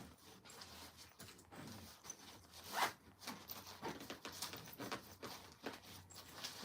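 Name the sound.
zipping up a luggage suitcase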